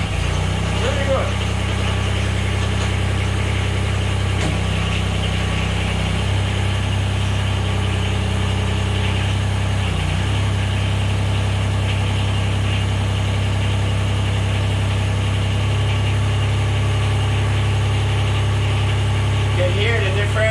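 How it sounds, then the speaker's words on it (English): A 4x4 vehicle's engine idles with a steady low rumble and throbbing vibration, close and continuous, with slight shifts in the idle partway through; no one speaks. "You can hear the difference in the idle when the GoPro goes off."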